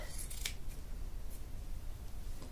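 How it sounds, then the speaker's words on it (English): Scissors cutting through soft minky fabric for a baby blanket, a steady run of close snipping and slicing over a low background hum, with one sharper snip early on; no talking. "I like to just cut"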